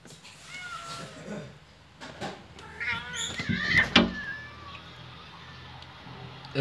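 Street cats fight near a balcony, with strained yowls and a sharp hissing burst building to a peak midway before fading into quiet.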